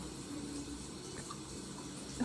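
Tap water running steadily into a sink during household cleaning, a soft continuous wash of flow held close throughout with no talking.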